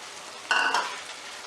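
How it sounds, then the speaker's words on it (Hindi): Julienned ginger and sliced onion hit a hot pan for a bitter gourd and onion sabzi, giving a sudden burst of sizzling and stirring midway that settles into a steady low fry. "अब हम इसके अंदर डालेंगे ये जूलियन कटी हुई अदरक और साथ ही हम डाल देंगे प्याज।"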